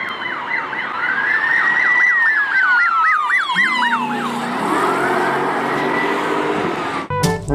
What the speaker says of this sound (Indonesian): Di sini ada mobil polisi.